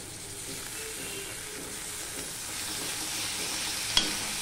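Onion paste frying with onion and garlic in a pan, giving a faint, even hiss with light stirring and a single brief knock near the end.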